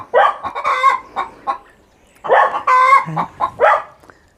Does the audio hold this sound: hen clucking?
yes